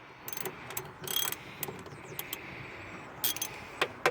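A ratchet wrench loosens 10mm bolts on a Toyota Camry tail light, giving short bursts of quick faint clicking with pauses between them, close up and without talk.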